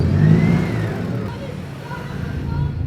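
A car engine revving as the car pulls over, a mid-pitched whirring rise and fall that stays steady under background noise.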